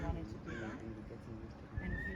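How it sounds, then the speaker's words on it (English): A faint horse whinny rises over steady outdoor background noise, distant and brief, with no clear talking. "hear that horse?"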